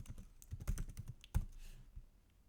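CSS code goes in on a computer keyboard as a quick, close run of crisp key taps, uneven in rhythm with a couple of heavier strokes, and no voices over it.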